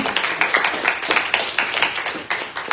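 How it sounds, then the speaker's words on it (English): A crowd at a diaspora community event gives a moderate round of clapping, individual claps audible in a fairly even patter at middling distance. "Can we give him a round of applause, everybody?"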